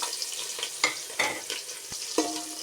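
Chopped onions and green chillies frying in hot oil for bagara rice, a steady close sizzle broken by several sharp scrapes and clinks of stirring.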